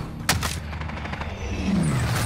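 An HDR .50 cal sniper rifle fires in a video game with one sharp, loud crack followed by a fading rumble and softer background battle noise.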